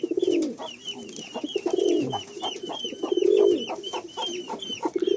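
An Old Line Madrasi pigeon coos close by, repeating deep rolling calls in steady succession, with a brighter chirping bird in the background.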